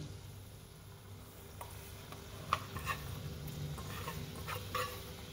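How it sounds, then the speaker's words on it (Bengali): Semolina and water being stirred in a pan, a faint continuous low sizzle with a few soft scrapes and taps of the spoon as it is worked around. "এবার একটু নাড়তে নাড়তে নাড়তে নাড়তে এটা জলটা শুকিয়েও যাবে"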